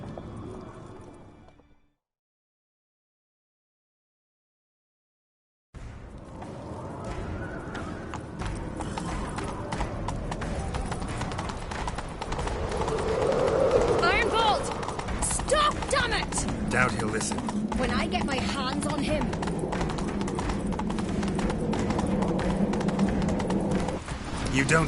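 Horse hooves clip-clopping at a steady rhythmic gallop in the Witcher 3 video game, loud and continuous after a silent gap, with spoken voices over the hoofbeats and a low musical backdrop.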